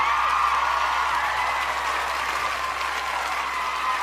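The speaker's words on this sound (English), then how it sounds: "I'll give you a round of applause for that." A steady, even round of applause from a group, sustained at a constant level for about four seconds with no talking.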